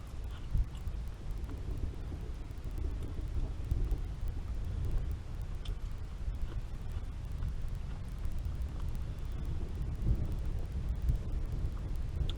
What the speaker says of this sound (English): The sky's rumbling, that's for sure. The sky is rumbling good.